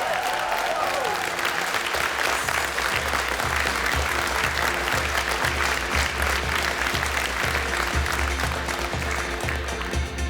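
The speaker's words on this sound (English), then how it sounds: "Ladies and gentlemen, round of applause." Loud, sustained applause from a television cooking-show studio audience during a Heston Blumenthal masterclass, a dense continuous wash of clapping with a faint rhythmic thump underneath.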